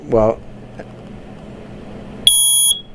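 A loud, steady high-pitched smoke alarm test beep sounds once for about half a second, following a brief burst of talk and a quiet pause.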